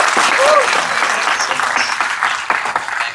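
A theatre audience claps steadily, a dense wash of applause from a packed crowd, with a few voices rising over it.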